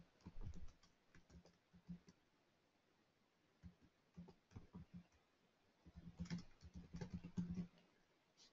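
Soft, scattered typing on a computer keyboard while writing into a free text field in medical records software, quiet and close, in irregular runs of key clicks with brief gaps.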